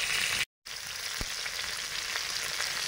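Spices tempering in hot mustard oil for a Bengali mixed-vegetable dish give a steady crackling sizzle, close and constant, broken by a short moment of silence near the start.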